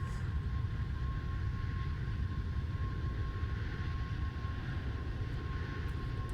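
Airplane taking off in the Roblox Flightline flight game: a continuous loud jet engine roar with a steady tonal whine, unbroken throughout, no talking.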